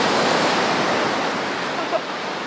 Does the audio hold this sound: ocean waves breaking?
yes